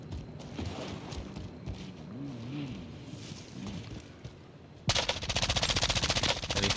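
Rapid M13 rifle fire in the video game Warzone erupts suddenly as a loud, fast automatic burst after a quieter stretch of game ambience and a passing vehicle, continuing until the end.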